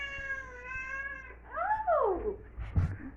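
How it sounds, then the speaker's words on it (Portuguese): A green-eyed kitten gives a drawn-out, wavering meow followed by a sharper rising and falling cry, close and clear, ending with a soft thump. "Vem aqui, é o gatinho dos olhos verdes."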